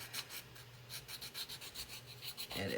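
Quiet, steady rubbing and rasping strokes, a sanding stick worked back and forth over a surface in a repeating rhythm, close up with no talking.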